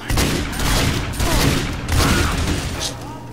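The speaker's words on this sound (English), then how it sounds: "The sentry turret!" Rapid, continuous gunfire from a sentry turret in the game Team Fortress 2, loud and dense, heard in bursts with other game effects and a raised voice underneath.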